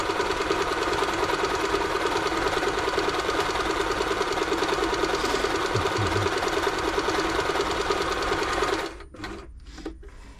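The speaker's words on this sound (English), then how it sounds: "So what we'll do now, just do a little straight stitch." A New Home L 312 sewing machine running a straight stitch after servicing, a fast, even mechanical whirring and clatter close up for about nine seconds, then stopping abruptly with a few brief knocks.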